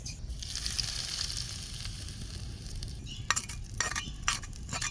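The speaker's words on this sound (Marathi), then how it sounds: "हे सगळं मिक्स करून घ्यायचं अशी सगळी व्यवस्थित मिक्स करायची" A spoon stirring and mixing onion, coriander and chutney into a tempering, with a steady background sizzle, then a few scraping and clinking strokes near the end, close up with no talk.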